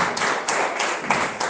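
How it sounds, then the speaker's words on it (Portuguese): A church congregation clapping hard together in a steady, fast rhythm, loud and close, with the claps blending into a dense wash of sound. "Se sente batendo palmas bem forte para Jesus."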